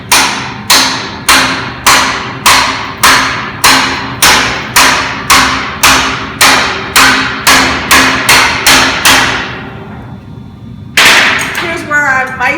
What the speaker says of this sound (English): I'm going to hammer this really well closed